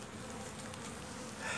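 Steady buzzing of weak, starving honeybees fills the clip, a continuous hum that swells slightly louder toward the end.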